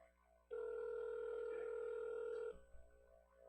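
A single long steady electronic ringing tone of a telephone call sounds for about two seconds, clear and alone, then cuts off.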